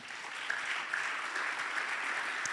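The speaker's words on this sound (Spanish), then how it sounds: "¿Le puede dar una ofrenda de palmas al Señor?" Applause from a church congregation offering a round of clapping to the Lord during a Spanish-language sermon, a steady, dense wash of many hands at moderate distance with no voices over it.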